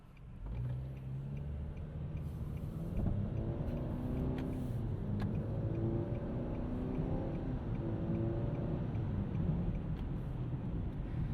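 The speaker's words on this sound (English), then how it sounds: "You can see a couple simulated shifts there from that CVT." A 2025 Nissan Sentra S base-model compact with a CVT accelerates on a morning commute, heard from inside as a steady engine drone whose pitch climbs, dips and climbs again through simulated shifts, with no talking.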